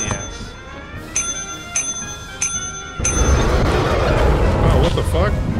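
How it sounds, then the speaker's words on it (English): A bell in the video game Lethal Company rings three times in quick succession with clear, ringing tones, then a loud burst of noise takes over. "ring that bell a whole bunch of times"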